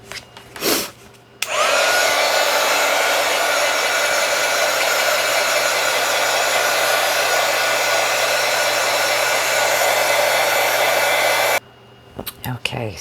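A hair dryer drying paint on a junk journal page roars steadily and loudly for about ten seconds, then cuts off, with soft handling noises before and after.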